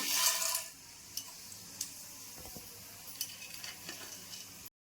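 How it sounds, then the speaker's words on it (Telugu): Tempering spices sizzle in hot oil in a kadai on a stove, a loud initial burst of crackling that settles into a steady hiss, with scattered sharp pops and light clinks of a utensil against the pan. "నూనె వేడయింది తాలింపు దినుసులు వేసుకోవాలి"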